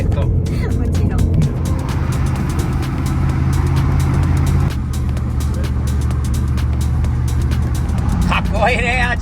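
A newly bought Toyota GR86 drives by outside with a steady engine drone and road noise that holds throughout, with voices chatting over it.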